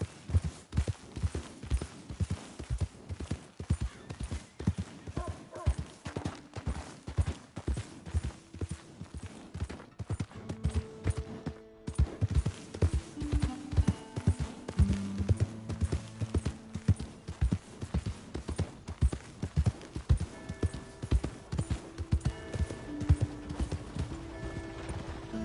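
Horse hooves clip-clop steadily in a PS4 video game, a continuous run of quick, even hoofbeats at a moderate, fairly close level, with musical tones rising and fading underneath.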